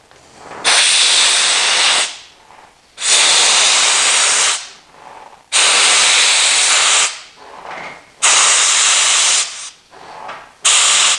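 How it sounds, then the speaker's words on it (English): Air gun blasting compressed air into a grip to expand it on a street fighter motorcycle build: four long loud hissing bursts separated by short pauses, then a brief final puff, with no talking. "puts the air gun on it, and then puts air to it to expand it"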